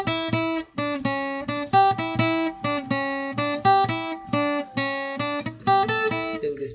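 Lead guitar plays the Ganesh Aarti melody Ek Dantay Vakra-tundaya as a steady run of about twenty-five distinct single picked notes, close and clear, with no talking.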